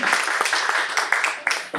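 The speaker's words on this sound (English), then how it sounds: "Let's have a big round of applause for him for an amazing speech today." Applause from an indoor Toastmasters meeting audience for a speaker, a steady burst of many hands clapping close and loud, with a few sharper claps standing out near the end.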